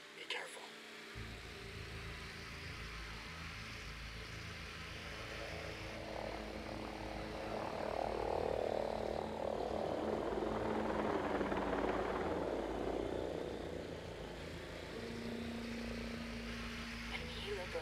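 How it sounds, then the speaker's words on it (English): A helicopter in Ghost Recon Breakpoint thrums overhead, its rotor wash and engine drone swelling louder as it passes close, then easing off, over steady ambient noise. "Chopper overhead. Be careful."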